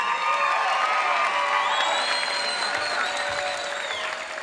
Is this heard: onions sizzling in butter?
no